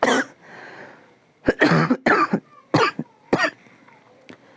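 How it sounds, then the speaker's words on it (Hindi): Several sharp, close coughs in a row, a quick burst of three or four followed by a couple more, each short and harsh with brief pauses between. "थोड़ा सा खांसी हो गया।"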